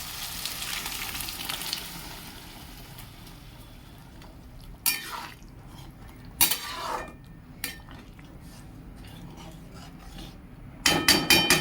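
Boiled peas tip into a pan of spiced oil, setting off a steady sizzle and fry, with a few sharp clinks and scrapes of a utensil against the pan.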